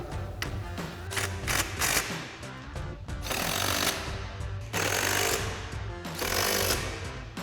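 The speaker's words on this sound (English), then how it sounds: "Now we'll tighten our hardware down with our 12mm socket." Seat hardware on a Jeep Wrangler YJ front seat being tightened with a 12mm socket, rapid mechanical rattling bursts of a ratcheting tool coming in several close loud runs with short pauses between.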